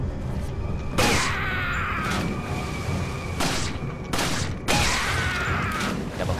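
Gunfire from a handgun in Resident Evil 4, several sharp, loud shots spaced a second or so apart, each with a ringing tail, over a low game background with no speech.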